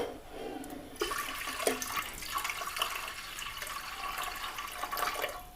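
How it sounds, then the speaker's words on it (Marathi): Water is poured into a hot, empty pressure cooker, setting off a sudden loud hissing sizzle that carries on steadily for several seconds, close by. "तर बघा वाजायला लागलाय कुकर पाणी ओतलं का लगेच, कारण की कुकर असा गरम झाला होता चांगला"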